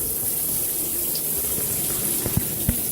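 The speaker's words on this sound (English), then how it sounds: "Let's run the shower." Shower water pours straight down into a bathtub, a steady broadband rush running throughout, with a few louder splashes near the end and no one talking.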